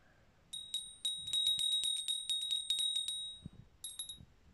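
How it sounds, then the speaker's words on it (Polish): A small hand bell from Częstochowa rings in quick repeated strikes, producing a bright metallic ring close by. After a short pause a brief final burst follows, with faint handling noise underneath. "Następna jest dzwon z Częstochowy."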